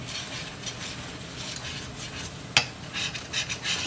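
A spatula scrapes and stirs across the bottom of a pan while Salisbury steak cooks, giving a steady soft rasping with one sharp scrape or clink partway through and busier scraping toward the end, with no talk.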